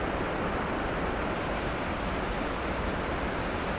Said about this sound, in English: This little area right here is called the Henderson Creek Cascades by some of the locals.